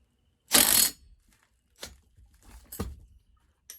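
A fastener is tightened back down on a McCulloch CPSP125C pressure washer. A sharp metallic scrape comes first, followed by a few softer clicks and ratcheting rasps, all close by with quiet gaps between them.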